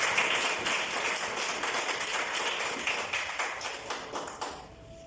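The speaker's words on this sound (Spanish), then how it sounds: "Denle un fuerte aplauso al Rey de Reyes y Señor de Señores." A church congregation breaks into loud sustained applause, dense clapping that fades toward the end.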